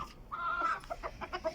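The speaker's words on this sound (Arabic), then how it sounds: "دجاج من يطلع هيجي صوت يعني مبيض او يريد يبيض" A hen on a farm clucks around egg-laying time, giving a drawn-out squawk followed by a quick series of short, faint clucks close by, with no talking.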